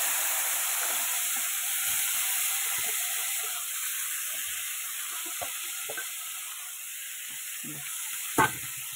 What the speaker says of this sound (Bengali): এবার আমি বিট আর গাজর দিয়ে, আলু দিয়ে যেটা কেটে রেখেছি ওটা একটু ভেজে নেবো